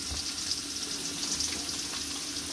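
Chicken liver sizzles steadily in a pan while being stirred, a continuous close crackling hiss with soft scraping movements and no voices.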